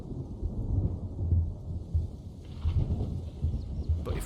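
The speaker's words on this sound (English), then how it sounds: "it's just a standard sound of a thunderclap" Standard thunderclap effect looping in a game-engine storm demo: a low, rolling rumble that swells and fades steadily throughout, heard alone without talk.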